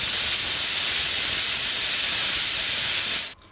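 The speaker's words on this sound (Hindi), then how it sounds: "प्रेशर कुकर की ये साउंड" Steam hisses hard and steadily from a pressure cooker whistle for about three seconds, loud and close, then cuts off abruptly at the end.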